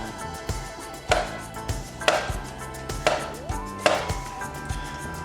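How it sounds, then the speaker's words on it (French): Knife slicing a banana into pieces on a cutting board, four distinct taps at roughly one-second intervals, close and clear with no talking. "je vais venir couper ma banane en tranches"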